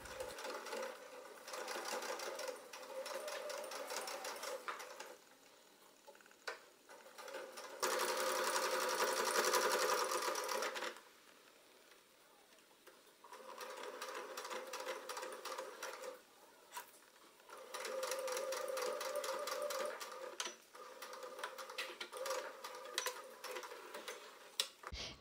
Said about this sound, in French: On réalise une surpiqûre à environ 2-3 mm de chacun des bords cousus